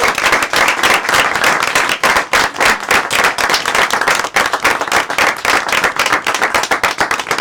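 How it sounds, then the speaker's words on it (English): Energetic clapping and applause erupt from a room of people at a charity gaming marathon livestream, dense and loud hand claps pulsing continuously for several seconds with little talk. "I think everybody needs to give her a round of applause starting now"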